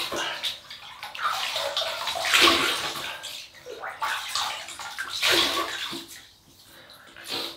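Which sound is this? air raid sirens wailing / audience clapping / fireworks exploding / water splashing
water splashing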